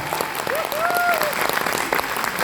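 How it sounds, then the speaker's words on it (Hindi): A poetry gathering audience breaks into dense, continuous clapping, loud and close, with a voice briefly rising over the applause. "एक बार आप लोग ताली बजाइए"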